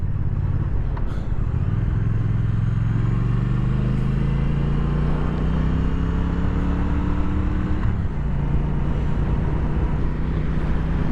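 A 2017 Triumph Thruxton R motorcycle rides on the road, its engine a loud, steady close-up drone that climbs in pitch, then drops with a shift near the end, with no talk.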